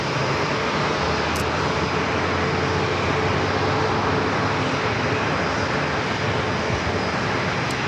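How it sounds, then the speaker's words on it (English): Pilatus PC-24 business jet flying as an Atrium Health air ambulance at San Diego airport, arriving from Albuquerque; a steady, loud, broadband engine roar holds evenly throughout with no voices. "latest PC-24 coming from Albuquerque, Atrium Health Med Center Air"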